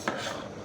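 Scissors cut through folded brown paper close by in one short, crisp snipping stroke, dry and papery against a quiet room, with no talk.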